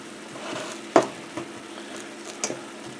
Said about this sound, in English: just let her continue to simmer down there